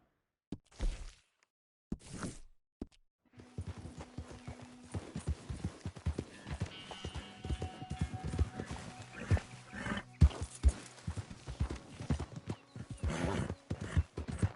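Horse hooves clip-clop in a steady galloping rhythm, close and fairly loud, with an occasional whinny and a rider urging the animal on.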